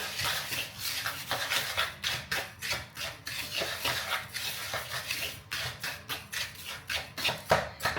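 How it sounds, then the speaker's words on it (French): A fork stirring dry semolina grains with olive oil in a bowl, giving a steady run of scraping, clinking taps and gritty rubbing strokes, close and alone without talk. "je viens touiller pour que tous les grains de semoule soient enrobés d'huile d'olive"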